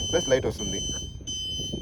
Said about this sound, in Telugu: మనము ఇండికేటర్ ఆన్ చేసినప్పుడు మనకి ఇలా సౌండ్ వస్తుంది